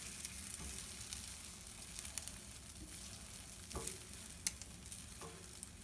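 Scrambled eggs fry with a steady, crackling sizzle in a pan, broken by a few sharp scrapes and taps as a utensil stirs them, with no talking.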